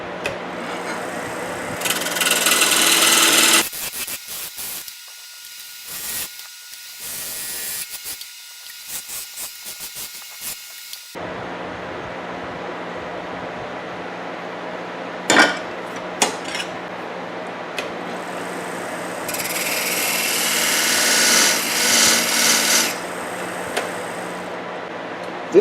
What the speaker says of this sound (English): now I'm going to try and fix it with the skew chisel.